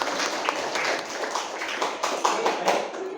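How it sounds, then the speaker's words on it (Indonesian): A class of students gives a round of applause during a lesson, loose overlapping claps and taps that run steadily at moderate volume for a few seconds, with no one talking over them. "Oke, tepuk tangan buat kita semua."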